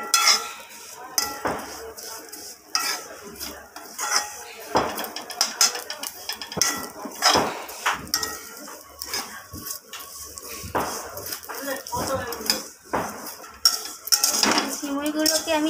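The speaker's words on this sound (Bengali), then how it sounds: "সিমুইটা দিয়ে ঘিয়ের মধ্যে এরপর আমি এটাকে ভাজা ভাজা করে নেব" Vermicelli fried in ghee in a pan while a metal spatula stirs and scrapes, giving repeated sharp clinks and clatters against the pan over a faint hiss.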